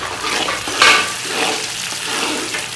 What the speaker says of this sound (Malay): Do not burn the garlic. Put in the minced dried prawns.